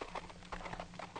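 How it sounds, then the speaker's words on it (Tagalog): Horse hooves clip-clop in a quick, regular rhythm as the animal is ridden, with several close, moderately loud hoofbeats over a short stretch and no talk. "Nagsakay siya sa kabayo nga to."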